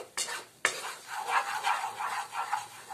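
Red chilli powder, coriander powder and garam masala fry in oil for palak paneer, a soft sizzle under repeated scraping and stirring strokes, after a couple of sharp utensil knocks on the pan at the start.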